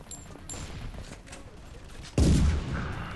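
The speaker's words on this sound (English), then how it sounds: "Damn, shotgun." A single loud shotgun blast in the mobile FPS King Of Warfare cracks sharply near the end after quieter gameplay noise with faint distant shots, followed by a short booming decay.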